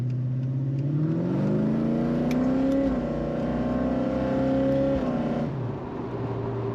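A 1982 Ford XE Fairmont Ghia with a 5.8L V8 accelerates hard from inside the cabin, the engine note rising steadily through a long pull, dipping briefly at a shift, then climbing again, loud and close.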